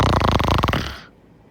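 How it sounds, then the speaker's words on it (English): Spyro the dragon snores in a video game, a single loud, rattling, throaty snore lasting about a second before fading out. "More like dragon snores."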